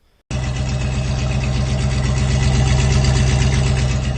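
A Chevrolet S10 pickup engine idles steadily after starting abruptly, its aftermarket exhaust giving a low, even rumble that stays loud and close throughout with no talking.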